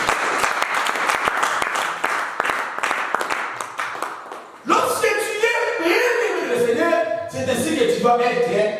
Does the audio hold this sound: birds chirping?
no